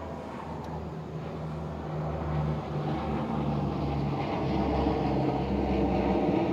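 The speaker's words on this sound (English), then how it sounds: "It's a big old military plane." A big military plane passes overhead outdoors, a broad steady roar that swells gradually over several seconds as it draws nearer, with no talk.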